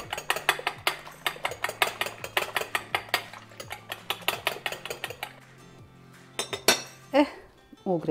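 Eggs are beaten in a bowl with a utensil, giving a fast run of repeated clinking taps against the bowl, near and fairly quiet, with a pause and a few louder knocks near the end.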